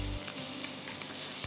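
Ginger, garlic, onion and mushrooms sauté in a hot pan with a loud, continuous sizzle and brief stirring scrapes, close up and without talk.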